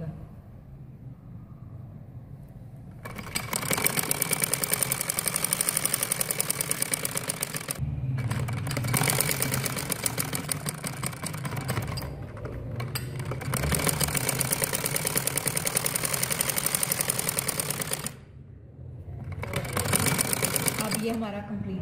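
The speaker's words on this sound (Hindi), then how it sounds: "अब ये देखिए मैंने सिलाई लगा ली।" An electric sewing machine stitches an umbrella frock in long rapid runs, a steady mechanical whirring chatter lasting several seconds each, broken by short pauses, with a voice occasionally heard.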